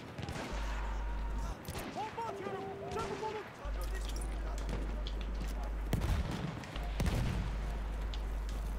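Rapid volleys and scattered shots of gunfire ring out during a Battlefield 1 match, mixed with booms and game noise while players talk over the action.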